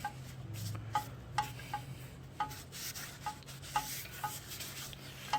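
A car engine flywheel, on a 4AGE engine swap, is cleaned by rubbing, a soft, steady scrubbing with regular light taps, close but quiet and with no talk.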